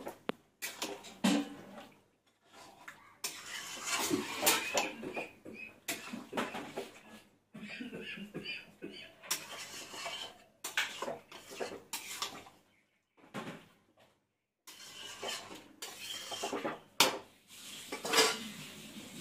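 Chicken curry being stirred in a pan after yogurt is added, with repeated metal scraping and clanking of a spoon against the pan in irregular bursts, close and fairly loud, with brief pauses between strokes.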